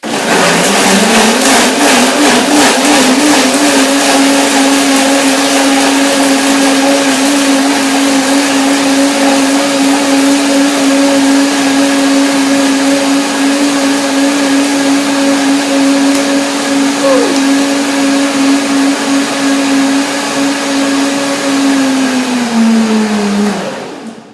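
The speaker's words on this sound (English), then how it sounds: "Let's see the blender dance." A blender making pumpkin seed milk with chili and raisins runs continuously at high speed, a loud whirring motor whine that dips slightly in pitch before cutting off at the end.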